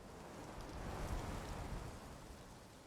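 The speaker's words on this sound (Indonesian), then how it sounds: "Gerimis hujan masih turun terdengar" Light drizzle falls in a steady, soft hiss, faint and even, with a slight swell in the middle and no voices.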